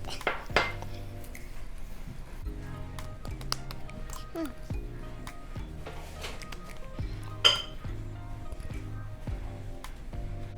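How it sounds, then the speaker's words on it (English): Homemade play-dough being mixed with food coloring in a bowl, heard as a series of soft squishy presses and light clinks and knocks against the bowl, with a sharper clatter midway and a voice speaking throughout. "it's time to put the food coloring. Now let's mix it up."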